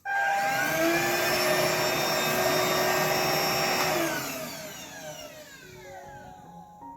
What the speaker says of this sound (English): Okay, and let's try to vacuum.